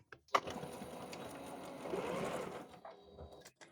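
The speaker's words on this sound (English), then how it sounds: "Back to your mark, needle down," A sewing machine stitches a bunny butt pillow in one short, close, steady whirring run that starts with a clunk and winds down after about two seconds.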